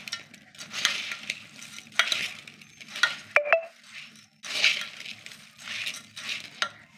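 Bhel ingredients tossed together with lemon in a bowl, giving repeated close, crisp rustling scoops in uneven bursts, with no talking.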